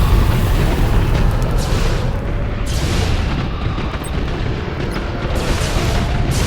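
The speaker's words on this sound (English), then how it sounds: "The station is destroyed." A space station explodes in the Battlefleet Gothic Armada space strategy game, a loud continuous roaring blast with rumbling low-end debris that persists throughout without pause.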